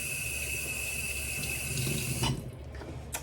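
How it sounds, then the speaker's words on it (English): Hands are rinsed under a running tap after a facial peel: a steady, fairly loud hiss of water pours for about two seconds, then cuts off, leaving a few splashes and drips. "Rinse off your hands."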